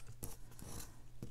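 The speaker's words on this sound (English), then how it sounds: "So I will just cut different pieces." Scissors snipping pieces of paper at a desk, a few soft quick cuts and crisp snips close by with a faint rustle in between.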